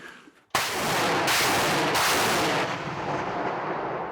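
A single loud artillery gun blast booms suddenly, in wartime fighting near Druzhkivka, Ukraine, followed by a long rolling echo that slowly fades.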